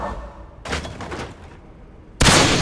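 Guns fire at a target shooting game in The Evil Within 2, heard as two loud, close bursts: a rattling volley that tails off, a pause, then a second sharp, heavy burst.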